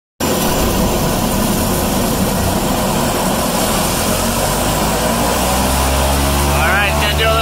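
A crop-spraying airplane for lentil fields roars loud and close as its engine runs up for takeoff, a constant heavy drone that swells slightly near the end, with speech under it.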